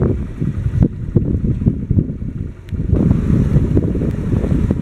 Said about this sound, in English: You saw one that was leaving. It's their dive boats.